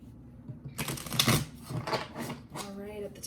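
A deck of tarot cards being shuffled, a run of crisp riffling rustles and flutters, loudest in the middle, with a voice faintly underneath.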